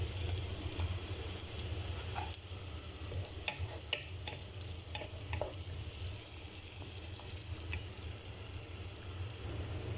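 Garlic and onion sizzle steadily in a pan for chicken adobo, a soft continuous frying hiss with occasional stirring clinks and scrapes, fairly faint and with no talk.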